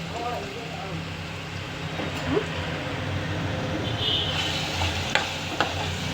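Vegetables such as fritters, eggplant and okra sizzle and fry in a pan while being stirred, with occasional clinks of the spoon. Someone talks over the steady crackle.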